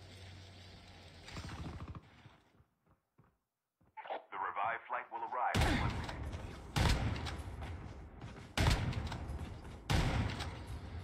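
Gunfire in a shooter video game, sharp loud shots in bursts and single cracks after a quieter stretch with brief sounds, alongside game noise and some voice.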